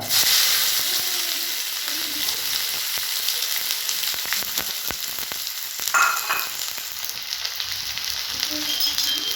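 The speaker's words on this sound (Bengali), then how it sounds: "পেঁয়াজটাকে ভালো করে ব্রাউন করে ভেজে নেব।" Chopped onion frying in hot oil seasoned with cardamom, cinnamon and bay leaf, a loud steady sizzle and hiss up close with a few stirring scrapes, no talking.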